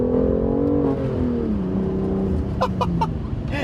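BMW M2 CS accelerating hard in second gear, a loud continuous engine drone rising and falling in pitch from inside the car, with brief sharp ticks or clicks near the end.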